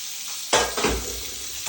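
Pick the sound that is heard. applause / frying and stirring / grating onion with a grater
frying and stirring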